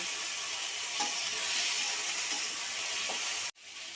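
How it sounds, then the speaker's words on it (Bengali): Taro and rohu fish masala with turmeric, salt and a little water sizzles steadily in a pan, a close continuous hiss with faint scrapes before cutting off abruptly near the end. "লবণ দিয়ে একটু জল দিয়ে কষিয়ে নিব"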